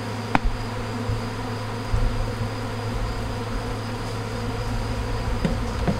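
Honeybees from an opened hive colony buzz steadily and closely around the beehives while a beekeeper works the frames, a dense continuous drone with a few small knocks and no talk.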